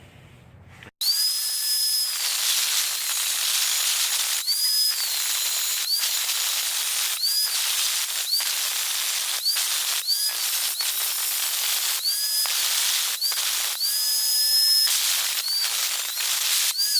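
Welding a bracket for a 1950 Pontiac wiper motor: a loud, steady hiss that starts abruptly and runs throughout, broken by brief gaps, with a faint whine riding on top.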